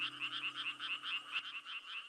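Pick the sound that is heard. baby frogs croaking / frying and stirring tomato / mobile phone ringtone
baby frogs croaking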